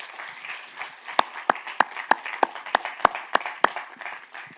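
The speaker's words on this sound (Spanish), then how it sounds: "Démosle un aplauso al Señor." A church congregation at a conference in Medellín claps for the Lord, sharp distinct handclaps in a steady rhythm of about a dozen beats over soft murmuring, fairly quiet and roomy.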